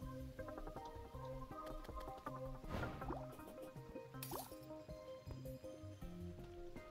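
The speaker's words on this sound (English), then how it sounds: "Am I drowning? How's the noise? Oh, bubbles." Underwater bubbles in a video game, heard as a stream of liquid gurgles and drips over steady, tuneful game music, with a brief louder burst of bubbling midway.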